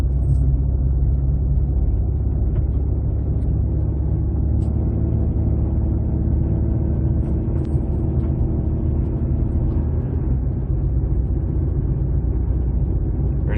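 A car with a 6F50 automatic transmission on a slow test drive after speed-sensor replacement, its engine a steady, close, continuous rumble with faint shifts and no talking.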